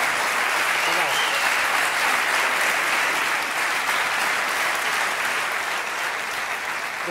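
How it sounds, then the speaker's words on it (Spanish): Steady applause from a group fills the whole clip, a dense, even patter of clapping heard up close without a break. "un aplauso para eles."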